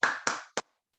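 Three separate hand claps in a children's clapping song during a virtual Sunday school session, two longer ringing claps followed by a short sharp one, close and distinct with no talk.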